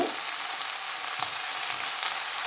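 White pumpkin cooking for curry in a pan, a bright steady close sizzle with faint stirring scrapes throughout, no speech.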